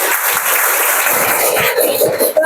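An audience at a Guru Divas school function applauds loudly with a sustained burst of dense clapping.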